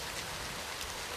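Steady rain falls, dense and hissing, loud and close with an even texture and no talk over it.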